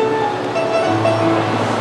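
Steam locomotive train running steadily, a continuous rumbling rail noise with sustained tonal whistle-like hums, fairly loud and close, no voices.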